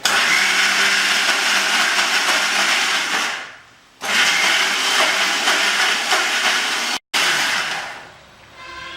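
An electric blender grinds milk with garlic and onion paste for a milk chicken curry. It gives a loud, steady whirring roar in long runs, broken by a brief stop and a short cutoff before it winds down.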